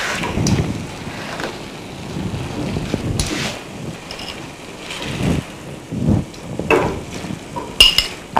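A spoon stirs a mixture with tamarind added for sourness, giving intermittent scraping and clinking bursts at irregular intervals over a low kitchen background, with no talk.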